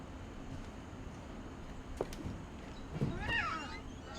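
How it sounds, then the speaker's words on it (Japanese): A cat in the video game What Remains of Edith Finch gives a couple of short meows around the three-second mark, the second more drawn out, over a steady low ambient hum. "猫がねずっと泣いてるんだよね"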